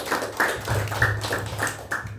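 A worship-night congregation claps along in a fairly even rhythm, sharp hand claps repeating several times a second over a low background hum.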